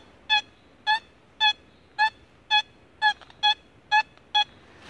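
A metal detector sounds over a deep buried target in a field search for relics, giving nine clear, evenly spaced electronic tones about half a second apart, loud and crisp against a quiet background.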